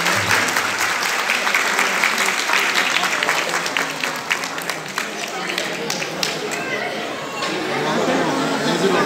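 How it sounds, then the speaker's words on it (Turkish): A crowd applauds steadily and loudly to welcome someone, a dense wash of clapping with scattered voices mixed in, holding strong for the whole stretch and swelling slightly again near the end. "Alkışlarla gel bari ya"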